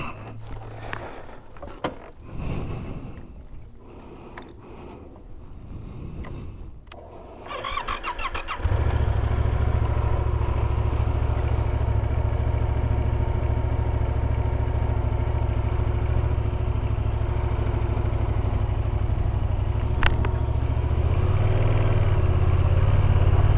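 Riding a 2017 Yamaha FZ-07 motorcycle: after a few seconds of muffled handling noise the engine settles into a loud, steady droning hum close to the mic, continuing without talk to the end.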